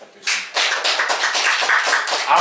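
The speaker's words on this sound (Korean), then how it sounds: "우리 참아버님께 큰 박수 한번 다시 부탁드리겠습니다." Applause from a church congregation during a Sunday worship service, a dense wash of many hands clapping that starts abruptly and carries on steadily at moderate volume, with no speech over it.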